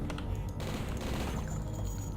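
Gunfire aimed at zombies in the retro shooter Blood, a steady stream of fast, clattering shots that runs continuously without a pause.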